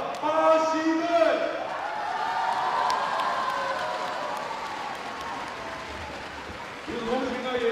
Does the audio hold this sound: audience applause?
yes